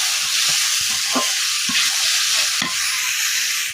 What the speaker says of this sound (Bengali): এবার আমি সিদ্ধ করে দেখা আলু আর কালকে পাতা উঠতে দিয়ে দিলাম এবার এগুলো দিয়ে কিন্তু আমি এক মিনিটের মতো ভেজে নেবো